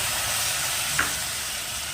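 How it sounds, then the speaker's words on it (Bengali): Poppy seed paste being stirred into fried onions in a hot pan for onion posto, a steady close sizzle with faint scraping and one brief louder clack near the middle, with no talking. "এই পোস্ত বাটাটা দিয়ে আমি খুব ভালো করে নাড়াচাড়া করব"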